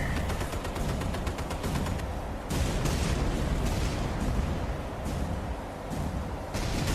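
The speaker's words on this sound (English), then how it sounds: "Alright, let's switch to cannons here." Warship cannons firing in a Battlestations Midway naval battle: rapid, loud repeated booms in quick succession over a dense, rumbling battle din, with no one talking.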